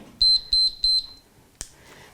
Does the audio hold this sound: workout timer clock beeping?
yes